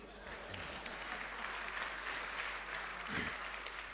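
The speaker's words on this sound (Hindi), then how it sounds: "वैसे ताली बजाने पे कोई पाबंदी नहीं है।" Applause from an audience at an Urdu poetry mushaira, a steady soft wash of clapping held fairly far off and faint, with no voices over it.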